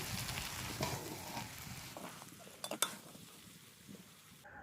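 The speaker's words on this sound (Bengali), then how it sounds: "এবার সসগুলো দিয়ে আমি আবারও নাড়াচাড়া করে নেব" Chow mein noodles stirred with sauces in a pan over reduced heat, giving a steady soft sizzle with scraping stirs and a few sharp utensil clinks near the middle, with no talking.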